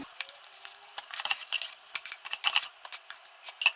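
Cheese-filled crepes frying in a pan, with quiet sizzling crackle and irregular sharp clicks of a utensil against the pan.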